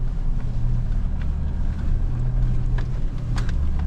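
A 4x4 off-road vehicle in first gear climbs a hill under constant throttle, its engine droning steadily and loudly up close with some wind buffeting and faint rattles.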